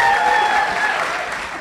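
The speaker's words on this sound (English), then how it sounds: "Let's give them a big round of applause again." Audience applause at a Windy City Times celebration of 35 years in LGBTQ media in Chicago, a steady, fairly loud wash of clapping with a faint tonal hum underneath, holding for under two seconds.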